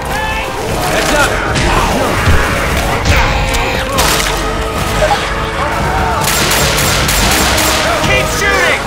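Chaotic rapid gunfire in Left 4 Dead 2 during a fight against a tank, with overlapping bursts, booms and crashes all loud and close, mixed with shouting voices throughout.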